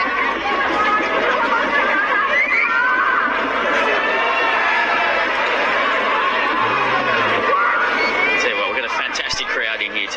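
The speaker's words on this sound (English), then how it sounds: "Fantastic crowd in here today. The place is humming at the moment" A packed crowd at a 2017 Hong Kong Super Sixes cricket final between Pakistan and South Africa keeps up a loud, steady roar of chatter and cheering that never lets up, with voices talking over it throughout.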